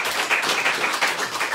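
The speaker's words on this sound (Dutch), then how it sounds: "dames en heren, geven een geweldig applaus" A live podcast audience applauds Alex Agnew and Jens Mekanik, a steady, close wash of many hands clapping for a brief moment.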